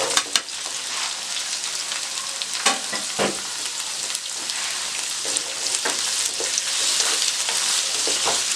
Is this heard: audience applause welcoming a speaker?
no